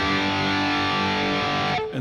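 Heavy tube amp distortion from triode stages in lead mode, a loud, dense, sustained buzzing tone rich in harmonics that cuts off abruptly near the end.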